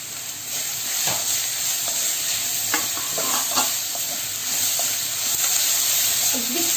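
Samosa filling of green chilli, garlic, ginger paste, curry leaves and spices being stirred and fried in a little oil in a pan, a steady loud sizzle with occasional scraping stirs throughout.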